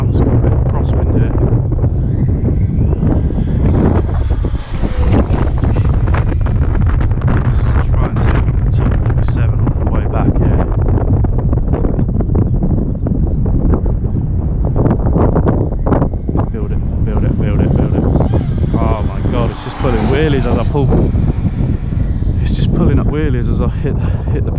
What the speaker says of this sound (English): It's got a bit of crosswind here.